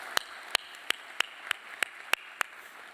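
Sparse, separate hand claps ring out at a university convocation, about eight sharp claps spaced roughly every third of a second, fairly quiet against a hushed room.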